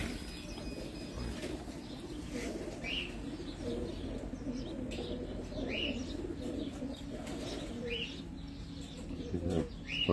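Pigeons coo repeatedly on a rooftop in Abu Dhabi, soft rolling calls recurring every second or two amid chirps and a brief flutter of wings, over low background noise and faint voices.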